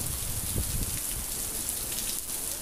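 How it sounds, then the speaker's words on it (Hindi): Heavy rain pours down in Makkah, Saudi Arabia: a loud, dense, continuous hiss of drops striking hard surfaces, steady throughout with no voices. "मक्का लाइव से बारिश की ये तेज़ी।"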